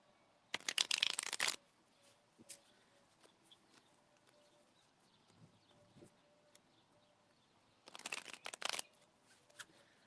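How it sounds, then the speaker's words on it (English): A deck of tarot cards is shuffled in two brisk riffling bursts, one at the start and one near the end, close and crisp, with quiet light handling sounds in between and no talking. "Let me shuffle the deck real quick."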